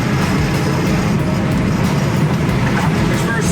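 A 1966 Ford Mustang Coupe on the road gives off a loud, steady engine and road drone, an even broadband rumble with no clear rise in pitch.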